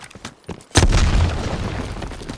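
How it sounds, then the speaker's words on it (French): A grenade blast in Call of Duty Black Ops Cold War, a sudden loud boom followed by a long rumbling, crackling tail, preceded by quieter game noise. "Une grenade!"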